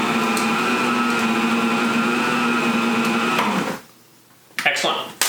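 An electric mixer beats cookie dough with cocoa powder, a steady close motor whine holding for several seconds, then cutting off abruptly into silence before a few clunks of the bowl.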